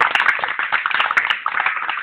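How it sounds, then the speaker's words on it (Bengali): Applause for picnic organisers, a crowd of people clapping steadily and close by in irregular overlapping claps, with no speech over it. "তাদের জন্য একটা হাততালি"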